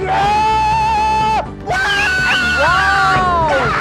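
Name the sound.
person shouting like a rock star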